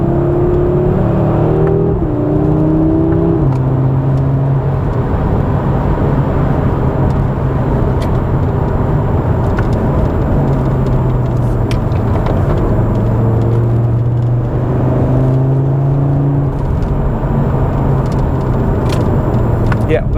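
Audi RS3 with a seven-speed S-tronic gearbox accelerating on the road, a continuous loud engine drone rising through gears with steady cabin rumble throughout.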